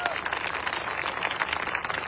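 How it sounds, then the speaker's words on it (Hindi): An audience at an AWPL direct-selling company gathering in India claps together, a faint, busy patter of many hands that stays steady for about two seconds with background room noise. "उनके लिए भी जोरदार तालियां होना चाहिए।"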